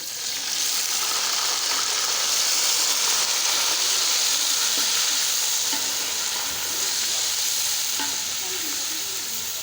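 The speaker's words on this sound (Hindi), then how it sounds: "जी भी वो ये देखें गोश्त जो है वो फ्राई हो रहा है" Boiled beef frying with cumin seeds in oil for Afghani pulao, a loud, continuous close sizzle with soft stirring movement running throughout.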